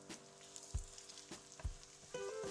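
Egg for fried rice sizzles faintly in a hot pan while a utensil turns and stirs it, giving two distinct low thumps against the pan over a soft, steady frying hiss.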